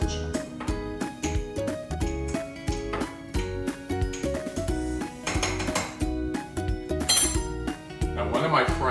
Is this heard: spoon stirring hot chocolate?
yes